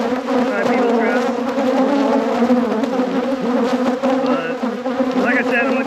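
Dense, loud, continuous buzzing of agitated honey bees during a close hive inspection after winter, a steady drone filling the air right at the listener with no talk.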